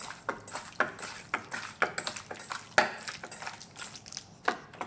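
A spoon or spatula stirs squash and beef with starch or flour, making a quiet, rhythmic series of scraping, clacking strokes against the bowl, about two or three per second, with no talking.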